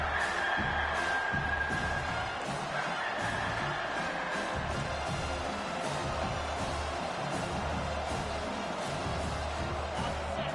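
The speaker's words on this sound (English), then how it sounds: "Here comes this home crowd as the defense tries to get off the field on third down." Home crowd at a college football game, Arizona versus South Carolina, roars in a dense, continuous wall of cheering and whooping through a third-down defensive stand, loud and sustained with no pauses.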